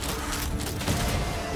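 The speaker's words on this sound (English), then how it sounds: "Open fire!" A dense, continuous volley of gunfire rolls on without pause in a video game battle, loud and sustained with no clear gaps between shots.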